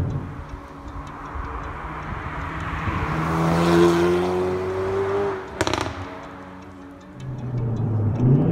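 A 2018 Hyundai i30 N Performance engine revs up and accelerates, a steady rising drone peaking mid-clip before easing off and climbing again, heard alone without talk.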